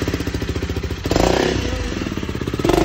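A motorcycle engine idles and revs nearby with a rapid, pulsing beat, then swells louder partway through and again at the end.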